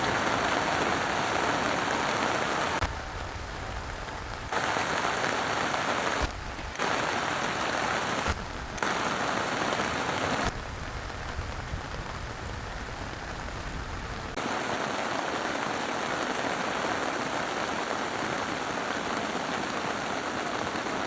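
Steady, dense rain patters on a camping tarp during a thunderstorm, a continuous hiss broken by several abrupt short gaps, close and fairly loud throughout.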